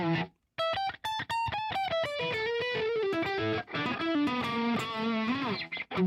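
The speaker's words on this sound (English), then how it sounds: "I can do a double stop for Donnie upstairs" Electric guitar played through a distorted rhythm patch, ringing double stops and bent two-note phrases in a continuous, loud run with brief gaps between the opening notes.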